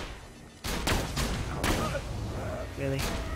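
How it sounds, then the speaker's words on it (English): Gunfire in the video game Borderlands 2 crackles as a few sharp, loud shots with bursts of impact noise amid game effects, while a player talks over it. "Probably a guy shooting at you."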